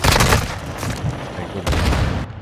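A grenade explosion and rapid gunfire ring out in the shooter game Modern Warfare 2, loud dense bursts of booming and crackling shots in quick succession, with a brief lull between volleys.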